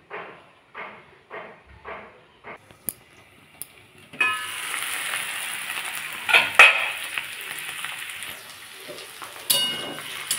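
Sesame paste fries in a pan for a white sesame and potato curry: a few rhythmic scraping strokes give way to a steady, close sizzle, broken by occasional clinks of a utensil against the pan.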